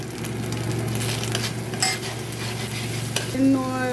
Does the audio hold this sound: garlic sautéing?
yes